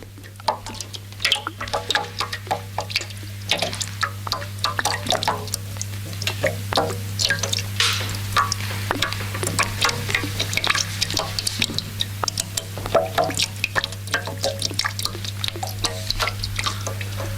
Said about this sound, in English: You listen to the dripping.